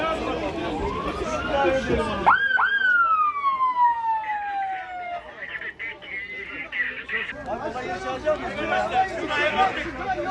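Emergency vehicle siren at a scene where many people were injured, a loud wailing sweep rising then falling once, amid crowd chatter and shouting voices before and after.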